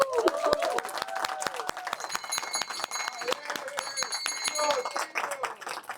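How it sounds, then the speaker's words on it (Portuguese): An audience at a company gathering during the FISPAL Sorvetes ice cream trade fair claps steadily for about six seconds, dense and fairly close, with scattered voices and cheers mixed into the applause. "Uma salva de palmas para todos vocês."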